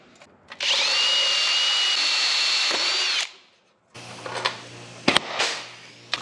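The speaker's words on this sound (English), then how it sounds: "I'm just riveting every other one of these pedals." A power tool whirs steadily for about three seconds while riveting aluminum pedals together, then falls silent, followed by sharp metallic clicks and pops from handling the parts, close and clear.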